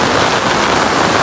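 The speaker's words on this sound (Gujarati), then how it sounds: "સવારનો વરસાદ ચાલુ જ છે" Heavy rain pouring down steadily on a flooded village in Sihor taluka, a dense, loud, unbroken hiss of downpour with no voices.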